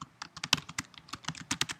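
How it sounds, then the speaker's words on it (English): Rapid, uneven clicking of keys as someone types on a computer keyboard, close and crisp, a dense run of individual keystrokes with no talking. "and so I'm going to use typing"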